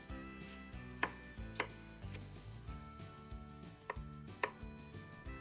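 Onion being chopped on a board for a baked mussels topping, a series of sharp knife knocks at uneven intervals, close and fairly quiet, with no talking.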